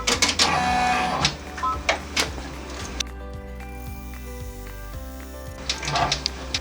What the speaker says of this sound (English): we're going to embroider out the placement stitch for the top panel of this